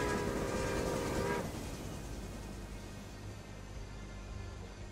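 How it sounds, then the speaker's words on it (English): Trains rumble through a rail network in the video game Railway Empire, set in the Andes, with a steady rolling roar and a sustained horn-like tone in the first second before it drops off, then continuous mechanical rumble with no talking. "Let's let these trains quickly whiz through here."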